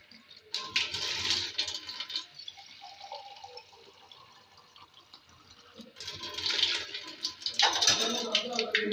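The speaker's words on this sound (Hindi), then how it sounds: "डेढ़ गिलास पानी को इसमें डाल के" Water is poured from a glass into a pressure cooker holding mutton karahi and spices, two splashing pours, one brief and one longer, close and clear with quieter kitchen sounds between.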